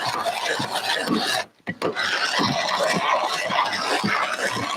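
Coffee beans being ground in a hand grinder, a continuous close rasping crunch with a short pause near the middle before the grinding resumes.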